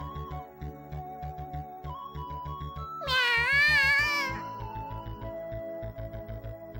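Cat meows in a Japanese visual novel game, one loud, drawn-out wavering meow standing out above quiet rhythmic background music.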